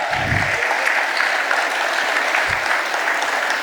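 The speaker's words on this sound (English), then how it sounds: "I will request all of you to have a big round of applause for Manish Da." Audience applause at an ex-students' reunion at RKM Vidyapith, a steady wash of many hands clapping throughout, moderately loud and even, with a couple of low thumps near the start and middle.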